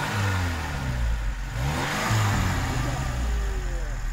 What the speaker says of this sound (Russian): что-то он газует не по-детски